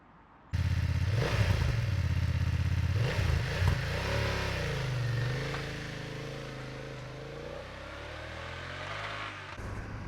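A BMW F 900 GS adventure motorcycle starts up and revs hard, engine pitch rising and dropping through several bursts before settling into a steady, loud ride-along drone recorded up close.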